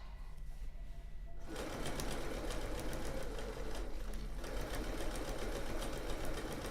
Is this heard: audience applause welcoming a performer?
no